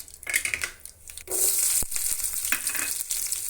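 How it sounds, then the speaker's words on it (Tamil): Sliced big onions drop into hot oil with bay leaf, cinnamon and cloves for a pearl-millet pulao, crackling and crunching, then settling into a steady, close sizzle. "இதுக்கப்புறம் இதில் பெரிய வெங்காயம் சேர்த்துறேன்"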